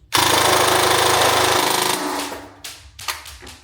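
A tuned airsoft SMG fires full auto, a rapid, continuous burst of mechanical firing rattling close up for about two seconds, followed by a few shorter bursts that trail off.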